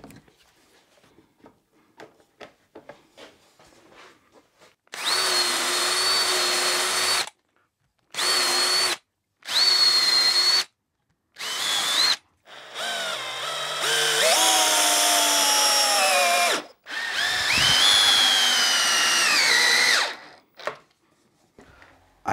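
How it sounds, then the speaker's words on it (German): A power drill drives screws to fasten parts onto a workbench, whining in several loud bursts of varying length separated by short pauses, with faint handling clicks before the first run. "Wird jetzt so festgeklemmt und dann fest verschraubt."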